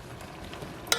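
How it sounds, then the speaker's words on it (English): A pot of water with apples in it boils at a steady roll, a soft continuous bubbling hiss. Near the end comes one sharp metallic clink, like a utensil against the pot. "The water down there is bubbling pretty good. Boiling, I should say."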